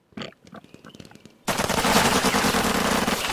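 Sustained gunfire in the tactical war game Lock 'n Load Tactical Digital, a loud continuous rattle of shots that abruptly starts halfway through, after a few quieter earlier sounds.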